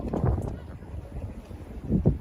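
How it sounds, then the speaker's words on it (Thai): Strong wind buffets the microphone outdoors among cherry blossoms in Japan on a Sunday outing, a low rumbling roar that swells and eases in gusts with no voice over it. "ลมแรงนะครับ"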